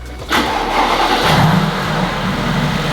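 A wrecked Mercedes AMG GT fires up with a short starter crank, then bursts into a loud, close roar that holds as a throaty, revving rumble through the rest of the moment.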